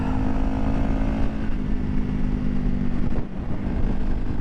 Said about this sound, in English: I like the sound of the exhaust. You guys hear that?